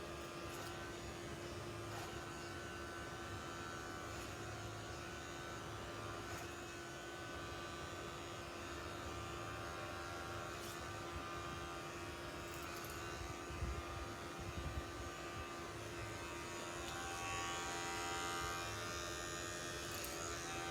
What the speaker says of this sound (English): I'm going to continue with my clipper over comb since that's what I started with.